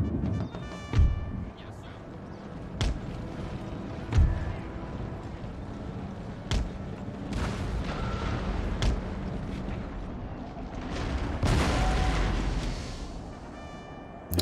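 Cannon fire on an Empire: Total War battlefield, several heavy booms spaced irregularly over a steady background rumble of battle, with a voice talking intermittently.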